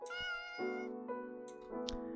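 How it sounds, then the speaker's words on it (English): A cat in a quiet house lets out a string of drawn-out meows, close and clear, with a few small clicks between them. "It meows again, the sound echoing in the quiet house."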